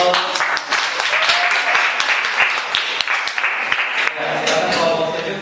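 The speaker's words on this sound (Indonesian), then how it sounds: "kita berikan aplaus." An audience applauds in a classroom presentation setting, with sustained clapping throughout and some scattered sharper claps, loud and close, with voices faintly beneath.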